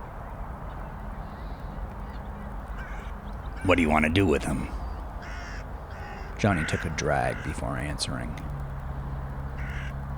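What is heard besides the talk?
birds calling outside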